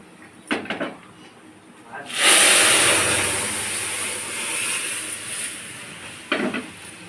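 Moong dal lentils are tipped into a hot pan of oil tempered with bay leaf, dried red chilli, cumin and ginger, setting off a sudden loud sizzle that settles into a steady hiss, after a few soft utensil clinks.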